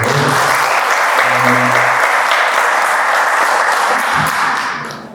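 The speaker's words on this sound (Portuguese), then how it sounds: "Palmas aí, Fred." An audience at a corporate governance panel breaks into loud sustained applause, many hands clapping in a dense close wash that tapers off at the finish, with a brief murmur of voices underneath.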